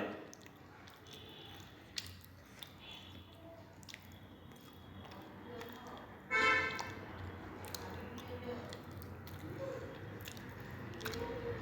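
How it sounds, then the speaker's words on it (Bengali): Eggplant slices are mixed by hand with salt and cornflour, giving soft, wet squelches and sticky squishes close up, with one louder burst of squishing partway through, over a quiet background. "লবণ দেওয়ার সাথে সাথে আমি কর্নফ্লাওয়ারটা মাখিয়ে নিচ্ছি"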